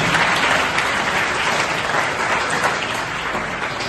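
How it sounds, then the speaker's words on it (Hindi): Loud, sustained applause from a school audience, many hands clapping densely and evenly without a break. "भाई क्लैपिंग हो जाए पर जोरदार"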